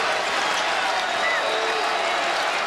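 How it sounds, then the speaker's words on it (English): A basketball arena crowd at the 2007 Big 12 tournament championship game between Texas and Kansas roars and cheers in a steady, continuous wash of noise, with a commentator's voice faintly mixed in. "Crowd coming to life."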